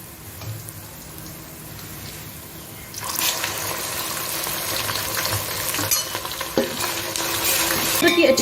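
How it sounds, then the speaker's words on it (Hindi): Garlic-ginger paste hits browned onions in a pot for beef pulao, and a loud, steady sizzle rises suddenly partway through, joined by stirring and clatter and swelling toward the end. "अब मैं इसके अंदर लहसुन अदरक का पेस्ट ऐड कर दूंगी।"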